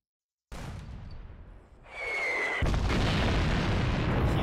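A shot and explosion from the turn-based strategy video game Greed Corp, a sudden loud blast after a brief silence swelling into a sustained rumbling roar with a rising whistle, no talking.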